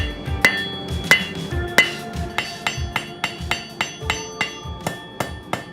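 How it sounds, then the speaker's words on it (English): A hammer strikes a hot steel stock bar at the forge to flatten it, a steady series of loud, ringing metallic blows, close and regular, with no talking. "So we got a stock bar in the forge, going to flatten it out first and then wrap it around to make the loop shape."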